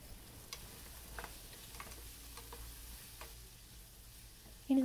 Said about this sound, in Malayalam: ഇനി നമുക്കിത് നന്നായിട്ട് വഴറ്റാം.